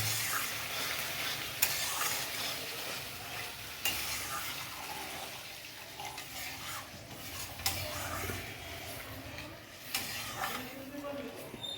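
Water poured into a hot pan for doi katla fish curry, setting off a steady loud sizzle and bubbling with occasional stirring clatter, close and continuous.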